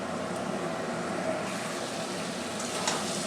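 Mutton sautéing in a pan for a Bengali curry gives a dense, continuous sizzle at close range, fairly loud and even throughout, with no speech.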